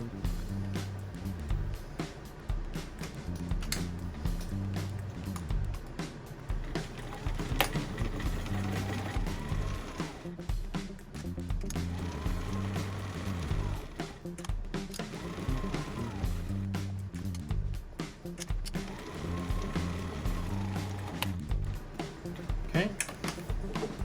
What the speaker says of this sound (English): we're going to top stitch this all the way around at 1/4 inch